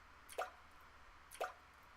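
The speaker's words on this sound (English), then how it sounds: "Drip, drop. The sound of drops resonating all around me." Two water drops fall about a second apart, each a crisp resonant plop with a short echoing tail, isolated against near silence in a quiet, reverberant space.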